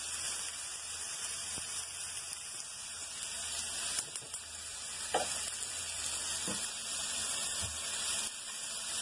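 Chicken sautéing in a pan for alambre, seasoned with garlic salt and onion salt, giving a steady close sizzle with occasional stirring scrapes and clinks throughout.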